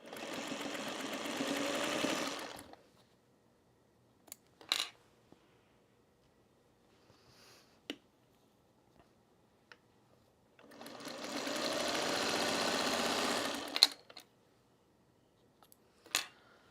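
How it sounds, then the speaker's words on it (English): A sewing machine stitches quilt block pieces together in a row, running in two steady whirring bursts of a couple of seconds each, with quiet clicks and handling noises in the pauses between them. "So we're going to sew them in a row, and we're going to press the seams open"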